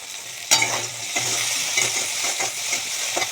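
Bitter gourd fries in a pan with a little salt and turmeric, giving a steady close sizzle broken by scraping stirs and a clink of a utensil, with no one talking.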